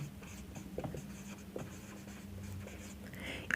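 Chalk or marker writing on a classroom board during a physics lesson on reflection of light: short scratchy strokes in a few bursts, fairly close, with no talking.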